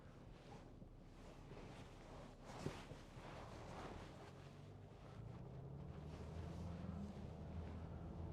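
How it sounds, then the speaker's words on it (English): A low diesel engine of a 2014 Range Rover Vogue 3.0 TD V6 rumbles steadily at idle, mixed with windy buffeting, its drone growing a little fuller toward the end. "Just listen to that engine."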